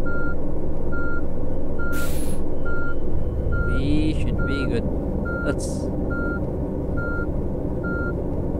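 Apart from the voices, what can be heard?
bus reversing beeps in Tourist Bus Simulator video game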